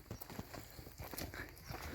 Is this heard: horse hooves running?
yes